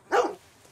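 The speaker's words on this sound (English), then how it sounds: "You're a good dog." A single dog bark in the video game Red Dead Redemption 2, one short, fairly close yelp-like woof that quickly fades into quiet.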